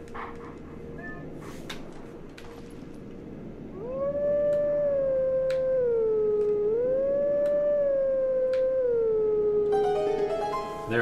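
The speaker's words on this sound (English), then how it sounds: "There, I played my song by howling." Wolf Link in Zelda Twilight Princess HD howls a sustained melodic song, rising and falling across several held notes over steady ambient game wind, loud and close.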